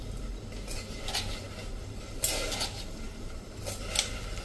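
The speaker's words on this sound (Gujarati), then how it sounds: "અને 3 ચમચી જેવી આપણે સાકર નાખી દેશું।" A spoon scrapes and clinks against a pot as sugar goes in while tea is being made, a few soft metallic taps and scrapes over a low steady background hiss.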